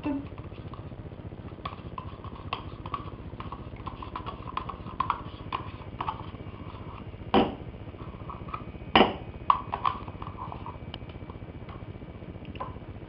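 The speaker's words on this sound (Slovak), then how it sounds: "Žltky a 4 lyžice cukru vyšľaháme do peny" Egg yolks and sugar whisked into a foam for a strawberry mock-tiramisu cream: a steady run of light, rapid ticking and clinking of a whisk against a bowl, with two sharper knocks partway through.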